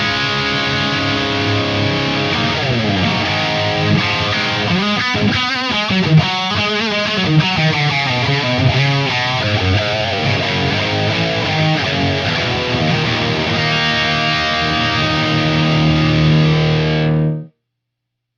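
Electric guitar plays heavy, sustained distorted chords through an EVH 5150 III amp on its red channel with the gain at halfway, dense and loud, ending with one long ringing chord that stops abruptly.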